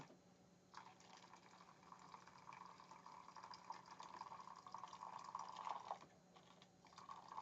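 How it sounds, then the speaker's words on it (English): Nearly boiling water is poured onto cereal grains, a steady, close hissing splash with crackly patter that starts after a short pause and runs on without talk. "we're going to add the somehow still nearly boiling water"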